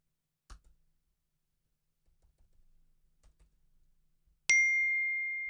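A single bright notification ding chimes from a device during a live call-in show, ringing out loud and decaying slowly after a few faint taps and soft rustles.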